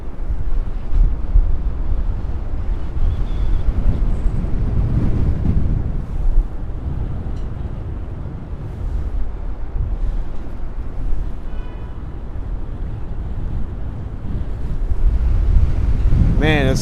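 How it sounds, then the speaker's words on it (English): Strong wind buffets the microphone in heavy, continuous rumbling gusts at a high lookout over New York City, swelling and easing throughout with a brief whistling squeak near the end. "it's so windy up here"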